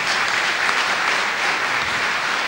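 Dense, steady applause from a congregation at a church celebration marking the 99th anniversary of the finding of Our Lady of Good Counsel, continuous and fairly loud for the whole stretch with no break.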